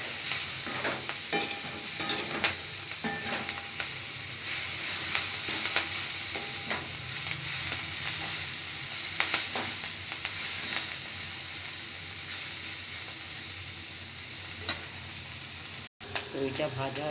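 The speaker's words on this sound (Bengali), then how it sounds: "আবার ভেজে নেব ভালো করে।" Chowmein with egg and soybean frying in a pan over a stove, giving a constant, fairly quiet sizzle broken by scattered scraping and clinking strokes of stirring for the full stretch.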